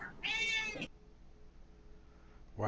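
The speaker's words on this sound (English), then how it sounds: "Wow, that's a loud cat." A pet cat lets out one loud, close, strained meow lasting about half a second, then near silence with faint room noise.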